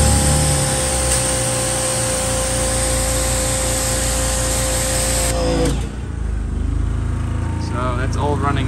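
Steady loud hiss and motor drone of a generator-powered pressure washer spraying during mobile car detailing, continuous throughout, with a brief dip in the noise near the end.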